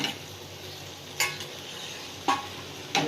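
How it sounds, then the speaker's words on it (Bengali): A spatula stirs egg, potato, green chilies and spices in a pan for a peas-and-egg kosha, with a faint steady sizzle and three sharp scraping strokes, close and alone. "মশলার সঙ্গে ভালো করে নেড়ে নেবো।"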